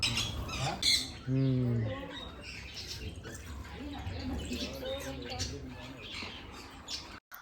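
Birds at Yercaud squawk in loud, harsh bursts, one long drawn-out call standing out early, with chattering calls and some human voices in the background.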